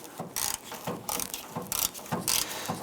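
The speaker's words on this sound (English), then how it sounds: "We want to go ahead and remove that screw" A ratcheting tool works a 7mm screw out of a 1997-2006 Jeep Wrangler front fender, giving bursts of close, repeated clicking with brief gaps, no talk.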